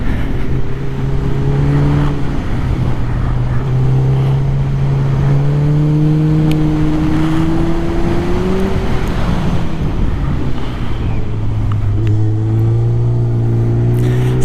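A motorcycle riding along a road, its engine droning steadily with rising and falling pitch as it accelerates and shifts, close and loud throughout with wind rush underneath.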